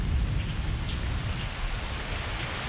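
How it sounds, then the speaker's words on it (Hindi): Heavy storm rain pours down steadily, a dense, close rushing wash of drops with no talk over it. "क्या खैर इतनी तूफानी बारिश में"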